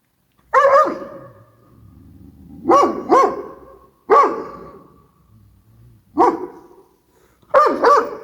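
A dog barks in short bursts of two or three, spaced a second or so apart, fairly close and loud with quiet gaps between.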